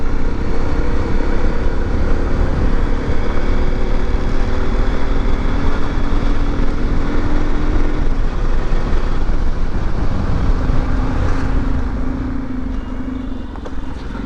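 A Hero Xpulse 200 motorcycle fitted with a Karizma engine runs steadily under throttle while being ridden, a loud continuous engine drone with wind rush that eases slightly toward the end.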